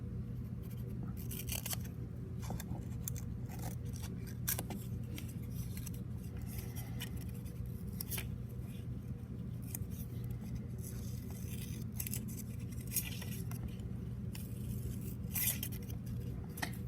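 Scissors snip out rounded paper craft shapes, producing a quiet, irregular series of small cuts and scrapes close by with no talking.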